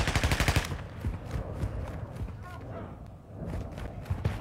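In a video game, rapid bursts of gunfire aimed at the player crackle in a quick opening volley, then scattered shots and movement continue under a tense background.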